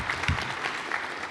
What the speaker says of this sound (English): So a big round of applause, and please thank you very much to our presenters.